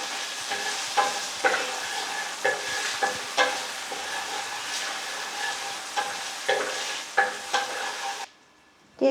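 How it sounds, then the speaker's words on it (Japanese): White wine hitting a hot pan of carbonara sauce, a loud continuous sizzle with a spatula scraping and stirring in a regular rhythm, then a sudden cut to near silence at the end. "ジュージューしているところには白ワインを入れて乳化させ"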